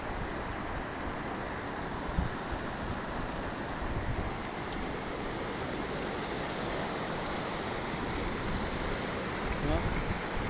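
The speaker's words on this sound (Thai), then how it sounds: "น้ำตกรอดพื้นในทางนี้เนาะ" A waterfall in a national park in Laos roars as a steady, dense rush of falling water, loud and continuous throughout, with the faint sound of a person talking beneath it.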